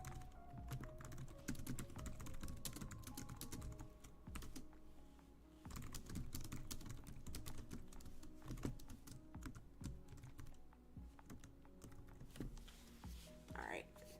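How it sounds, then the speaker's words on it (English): Quiet computer keyboard typing runs through a late-night animation stream, irregular clusters of key taps over a soft background hum, with brief voice sounds mixed in. "I'm typing to Winnie. Or Zenny."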